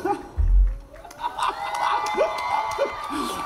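Concert crowd at a countdown show on Siam Square in Bangkok cheering and applauding a band's drummer, a steady wash of claps and whoops with a few shouted voices rising over it throughout.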